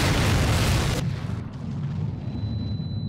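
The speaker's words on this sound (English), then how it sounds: "that's a grenade!" A grenade blast in the WWII shooter Medal of Honor: Pacific Assault: one loud, close, deep boom with a broad burst that cuts off after a second, leaving a low rumble and a thin ringing tone.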